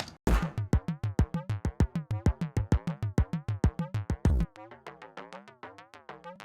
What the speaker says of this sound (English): I put a corpus effect on it